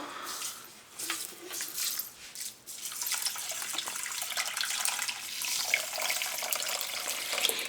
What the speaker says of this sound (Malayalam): എന്നിട്ട് ഇതിലേക്ക് വെള്ളം ഒഴിച്ച് വെക്കാം